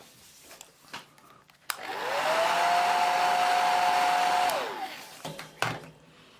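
A hair dryer dries fresh yellow paint on a miniature, spinning up, blowing loudly and steadily up close for about three seconds, then winding down among small handling clicks and taps.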